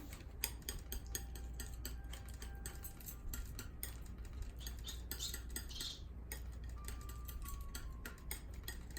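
Oil paint worked together with oil on a palette using a palette knife, a quiet run of close, rapid ticking scrapes and taps that continues steadily with no talking.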